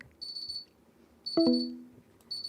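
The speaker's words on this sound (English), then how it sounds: "The timer has sounded" A timer alarm goes off with repeated high electronic beeps, sounding in three separate bursts and fairly close. A brief louder thump lands in the middle of the clip.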